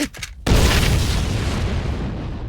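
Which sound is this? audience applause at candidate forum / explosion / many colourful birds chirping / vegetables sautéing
explosion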